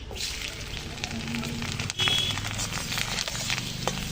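Cumin seeds and potatoes frying in hot oil for a bottle gourd dish, giving a steady, close crackling sizzle with a faint voice underneath.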